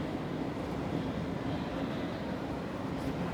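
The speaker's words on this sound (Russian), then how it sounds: "Мы сейчас в нем находимся. Это станция метро" Steady, dense rumble of a metro train at an underground station, a constant broadband roar with no voices over it.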